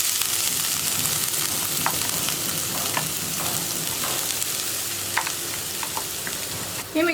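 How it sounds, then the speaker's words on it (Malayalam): Ground masala paste sizzling and frying in hot coconut oil with popping mustard seeds, a steady close crackle running throughout, with a few sharper pops and stirring scrapes near the end. "കടുക് പൊട്ടി കഴിയുമ്പോഴേക്ക് നമ്മൾ അരച്ചു വെച്ചിരിക്കുന്ന അരപ്പ് ചേർത്ത് കൊടുക്കാം."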